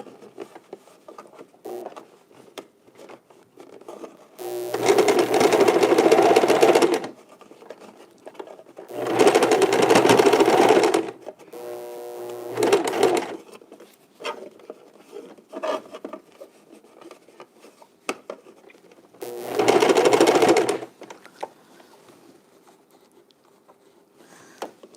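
A home sewing machine stitches a fabric face mask in four bursts of rapid whirring, each lasting a few seconds, close and loud. Quieter handling and rustling of cloth fill the pauses between them.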